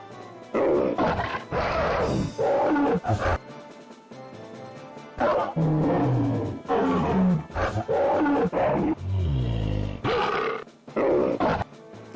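Tiger monster in the Monster Rancher 2 video game gives a series of loud, deep roars and growling grunts, repeated in bursts across the stretch with short gaps between them, sounding somewhat pitched down.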